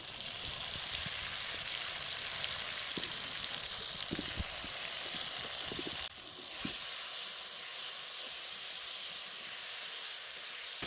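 Large home-raised poultry chicken, about five kilograms, frying with spices in a pan, giving a steady loud sizzle with scattered crackles and pops throughout.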